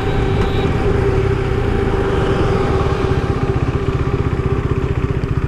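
A 2017 KTM Duke 390 motorcycle ridden at full throttle on the road produces a loud, steady engine drone with a rapid pulsing beat that grows more pronounced toward the end, mixed with wind rush and no talking.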